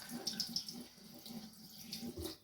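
Water trickles steadily from a bathroom tap as a child fills a small empty perfume bottle at the sink. The flow is close and fairly quiet, with faint splashing and no voices.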